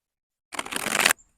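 A short burst of dense, crisp tarot card shuffling, about half a second of riffling that ends abruptly, close to the mic.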